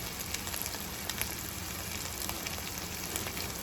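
Brain fry cooking with coriander powder crackles and sizzles in a pan, a steady dense hiss with small pops, close and fairly quiet, with no talking.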